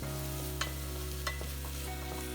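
Chopped lady's finger (okra) sauteing in a pan, a soft steady sizzle with a couple of light utensil taps over a low hum.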